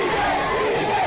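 A large crowd of TVK supporters roars and cheers at Vijay's speech, a dense, continuous wash of shouting that stays loud and steady throughout.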